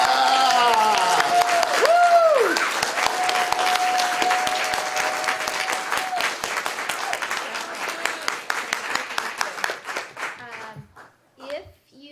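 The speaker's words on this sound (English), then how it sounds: "how about one more round of applause for" At an elementary school district speech contest, an audience bursts into loud applause that slowly thins into scattered individual claps as it fades out, with children's voices and chatter in the background.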